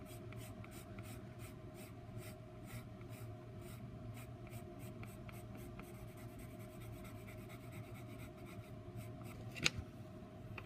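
Prismacolor colored pencil laid flat and shading steadily across paper, a continuous soft scratchy rub with no pauses, close and fairly quiet over a faint steady hum, with one brief sharper tap near the end.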